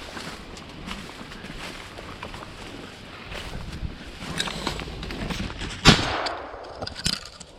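A single sharp shotgun blast during a ruffed grouse hunt, ringing out once near the end over rustling brush and wind noise.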